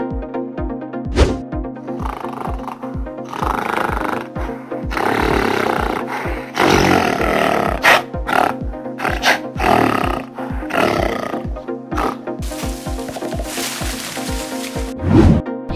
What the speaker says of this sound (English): Gorillas are the largest apes.